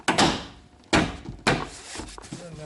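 Plastic trim clips on a 2003 Honda Civic EX Coupe rear panel being knocked into place by hand, three sharp separate thumps over about two seconds, close and fairly loud, with faint handling noise between.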